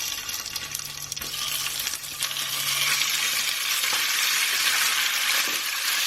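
Beef hitting hot oil in a pan sizzles steadily and loudly, a dense broadband hiss that swells slightly after a few seconds, with a few faint clinks and no talking.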